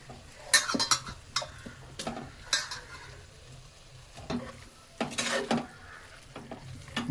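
A tomato and onion masala with ginger, garlic, coriander and mint for a chicken biryani is stirred in a pan, the spoon scraping and clinking in uneven bursts over a steady frying sizzle.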